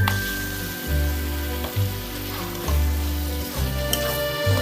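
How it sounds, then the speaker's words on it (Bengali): Pieces of liver and stomach fry in a pan, making a continuous crackling sizzle over a low, pulsing rumble that rises and falls at regular intervals. "এবার আমি মেটে স্টমাকটা দিয়ে দিচ্ছি।"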